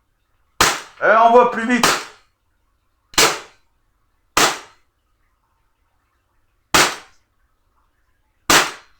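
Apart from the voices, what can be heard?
Taurus 24/7 G2 pistol shots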